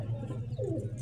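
A pigeon about ten years old coos in a low, rolling call that rises and falls once, close by and clear over a steady low background hum.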